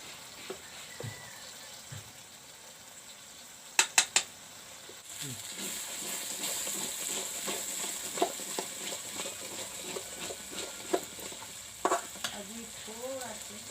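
Fish curry sizzles in a pan while a utensil stirs it with curry masala, giving repeated scraping strokes, a few sharp clinks, and a steady frying hiss throughout.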